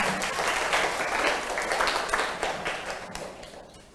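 A class of primary school pupils claps for a classmate who solved a maths problem correctly, a dense spatter of hands that is steady at first and thins out toward the end, with no voices over it.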